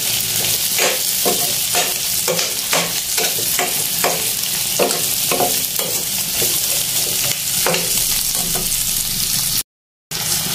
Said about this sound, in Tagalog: So, igisa natin ang munggo rin.